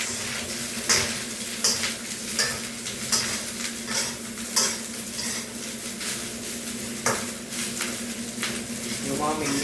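Fried rice sizzling in a pan as a spatula stirs and scrapes it in regular strokes with metallic clinks, close and steady, with a voice talking over parts of it.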